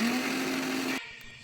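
Kitchen blender grinding sweet potato puree with sugar and milk, a loud steady whirring motor that cuts off abruptly after about a second, leaving quiet.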